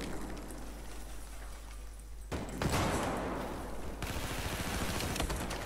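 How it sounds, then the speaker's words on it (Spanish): Rapid automatic gunfire in the video game Battlefield 4, a small Conquest match on a flooded map, with a sustained burst of shots starting midway and running loud to the end, no talk over it. "esta arma pega 20 disparos de los 20, no lo mata"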